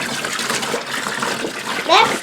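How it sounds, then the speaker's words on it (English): Water running into a plastic tote for a hydroponic watermelon setup, a steady close splashing pour across the whole moment, with a brief voice near the end. "take that tote and fill it with water"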